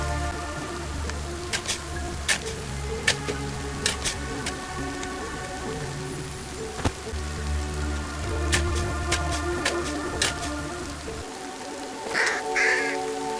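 In the Mystery Detective farm scene, a crow caws several times against steady rain pattering and a droning game soundscape, with a brief rustle near the end.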